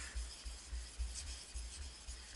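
A kitchen knife drawn along a sharpening stone from base to tip, giving a steady series of soft, raspy strokes in a regular rhythm, close and fairly quiet.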